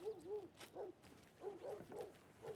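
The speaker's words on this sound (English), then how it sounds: "Is there a doggo in there?" A dog barks repeatedly behind a closed door in the video game Alan Wake II, a series of muffled, moderately faint woofs in an uneven rhythm.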